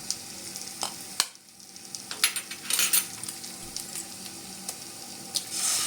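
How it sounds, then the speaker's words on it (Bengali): Eggs cracked into a pan of sizzling potol gravy on the stove, with a steady crackling fry, sharp shell taps and bursts of spattering, plus faint utensil clinks, close and without talk. "এবার ডিম দুটো ফাটিয়ে নেব।"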